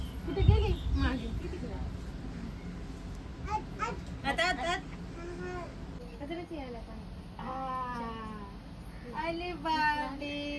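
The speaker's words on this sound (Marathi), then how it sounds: "मांजर आहे ना तिकडे" A cat meows a few times outdoors near a relatives' house, the calls mixed in with people chatting and a voice over steady background noise.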